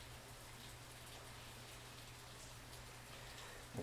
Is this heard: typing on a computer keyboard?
no